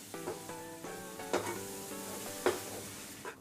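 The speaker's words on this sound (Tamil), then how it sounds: "இப்போ இதில் எல்லாத்தையும் நல்லா கலரி விட்டுருங்க." Paruppu urundai kulambu with ground coconut paste and spices is stirred in a pan, with soft scraping strokes at a slow rhythm over a faint low sizzle, heard close and quiet.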